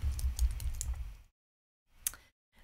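Quick bursts of typing on a computer keyboard, a rapid clatter of keystrokes for about a second, then silence and one more short flurry of key taps.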